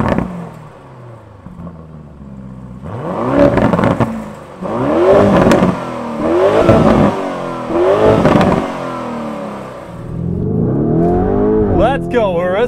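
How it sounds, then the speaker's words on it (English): A Lamborghini Urus SUV engine revs hard several times in rising, falling sweeps, then roars as it accelerates away, loud and close, with excited voices heard between the revs. "Now we can, yeah, we can rev up and go."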